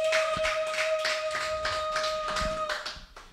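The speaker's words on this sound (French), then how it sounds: "Acclamez pour la parole de Dieu" A church congregation applauding after a French-language sermon, steady rhythmic clapping in even beats over a held organ or keyboard note, fading toward the end.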